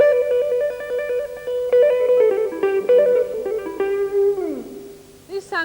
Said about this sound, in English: If you add the two techniques together, you can get trills